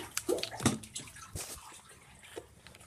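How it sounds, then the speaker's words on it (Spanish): Water poured into a liquid to mix it, giving a splashing, sloshing burst near the start that fades into a softer trickle, close and moderately quiet. "Vamos a poner un poquito más de líquido. Y lo vamos a mezclar con agua."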